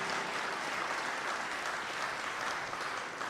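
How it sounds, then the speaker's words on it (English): Church congregation at a Sunday service gives sustained applause, a dense, even roar of clapping that stays loud throughout. "More applause, please."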